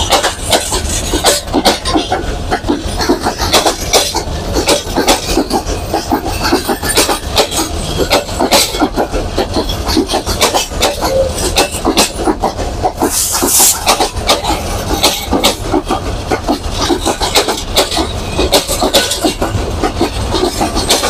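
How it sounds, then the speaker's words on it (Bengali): Lalmoni Express train pulling into platform 1 at Natore railway station, a loud continuous rumble with dense clattering of wheels over rail joints and occasional hissing bursts, with no voices. "লালমনি এক্সপ্রেস ট্রেনটি নাটোর রেলওয়ে স্টেশনের 1 নম্বর প্ল্যাটফর্মে প্রবেশ করছে।"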